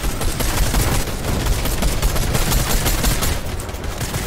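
Rapid video-game gunfire from Fortnite, a dense barrage of shots that fills the whole stretch at steady loudness, close and continuous with no voices over it.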